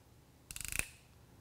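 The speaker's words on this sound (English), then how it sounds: "And that ratcheting action will set the tension just right and make this basically a good crimp every time" A ratcheting crimping tool closes on a wire eyelet, giving a quick run of about eight sharp clicks over roughly a third of a second, ending in a louder snap, close and otherwise quiet.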